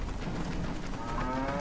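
Cows moo in the Tale of Two Wastelands mod of the Fallout video game, a short low lowing call near the end over a dense, steady game-ambience backdrop.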